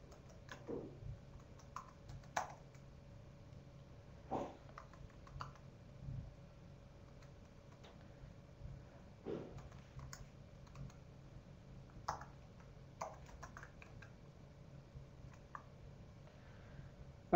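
Typing on a computer keyboard, quiet scattered key clicks in short uneven bursts with pauses between, close by over a faint steady hum, no talking.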